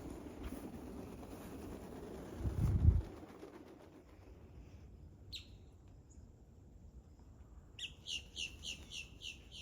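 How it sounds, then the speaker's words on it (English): Birds in an orchard of dry-farmed fruit trees give soft coos and scattered tweets, ending in a quick, rhythmic run of loud chirps close by, after an earlier low rumble fades away. "Lots of birds, lots of wildlife."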